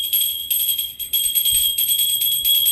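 A small metal puja bell rings with a bright, sustained high tone, struck repeatedly in an uneven rhythm.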